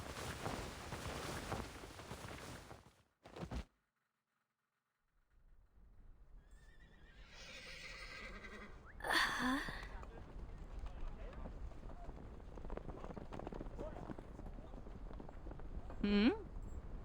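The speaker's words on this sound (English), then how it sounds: "The sound of dozens of horses neighing at once echoes from somewhere far away." A video game scene of horses neighing in the distance, with shrill whinnies rising over a windy, rumbling background and faint hoof clatter, the whinnies coming a few at a time after a brief silence.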